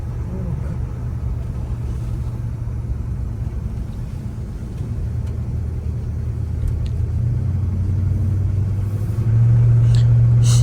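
A 1978 Pontiac Trans Am's V8 engine rumbles at idle close by for the whole stretch, deep and even, swelling slightly louder near the end.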